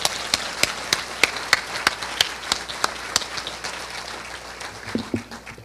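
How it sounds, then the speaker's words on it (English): Sparse clapping at a Cal State Long Beach educational forum: a few people clap in separate, distinct claps with gaps between them, fairly close and moderately loud, slowing and thinning toward the end. "Let's give a big round of applause to Long Beach City College."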